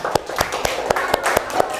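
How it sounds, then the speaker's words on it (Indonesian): Children in a classroom clap together in a short, steady rhythmic burst of about eight even claps, close and fairly loud. "Tepuk tangan dulu buat Eka."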